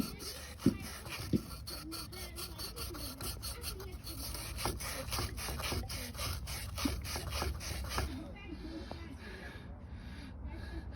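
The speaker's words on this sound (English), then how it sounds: "So we'll just grab some open mesh sanding cloth." Quick back-and-forth rasping strokes of open mesh sanding cloth scrub against metal pipe at close range, then stop near the end, with faint voices underneath.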